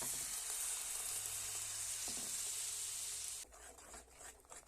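Garlic and hot chili sizzle loudly in a few spoonfuls of oil until tomato juice is poured into the pan, and the hiss suddenly drops to a quieter, bubbling simmer.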